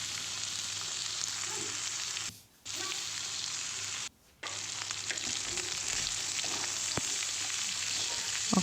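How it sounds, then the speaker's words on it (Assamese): Pork meat frying in a pan with a steady loud sizzle and stirring scrapes, briefly cut out twice, continuing alone without voices. "এয়া মই মাংস দি দিলোঁ"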